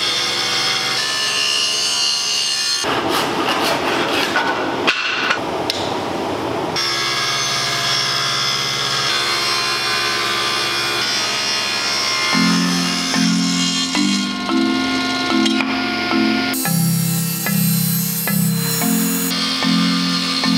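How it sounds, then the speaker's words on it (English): Table saw cutting timber for the keel of a 1910 wooden sailboat, loud continuous whining blade with pauses and shifting pitch as passes are made, no voices. "Now I just ran this through the table saw a few times"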